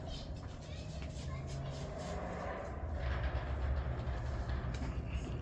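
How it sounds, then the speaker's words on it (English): A loud truck rumbling past outdoors near an old mill, a steady low roar with rattling that swells toward the end, while someone talks over it. "Sorry about the loud truck going by."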